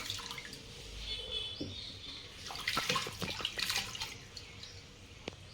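Grated carrots for carrot halwa being rinsed by hand in water, with close sloshing, splashing and dripping.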